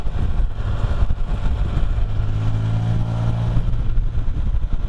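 A Can-Am Spyder three-wheeled motorcycle, its tires run at 9 psi, drones steadily up close as it runs through the gears, a continuous low engine roar with a rising tonal whine midway, no voices.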